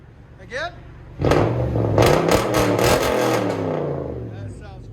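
A Toyota Tundra with straight pipes and a true dual exhaust revs hard, heard from its other side. The burst is loud, rough and close, with several throttle blips over a sustained roar. People speak briefly before and after the revving.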